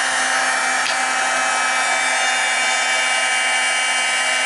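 A heat tool warming embossing powder for card making blows a continuous, loud, steady whirring hiss from start to finish, close by and alone.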